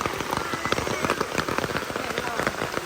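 Steady rain patters densely on a hard surface, countless close drops ticking and splashing without pause.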